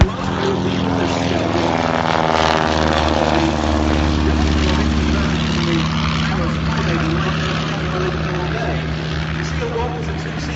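A vintage CL1 two-seat monoplane drones past at the Duxford Air Festival, a steady propeller-engine hum holding loud and close across the pass, with a commentator talking over it.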